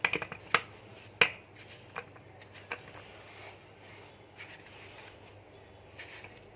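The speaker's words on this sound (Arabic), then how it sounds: "دلوقتي هنقطع الطماطم" A knife chopping tomatoes for hawawshi, heard as a few sharp, quiet cuts on a board spaced over several seconds, near and faint against a low room hum, with no talking.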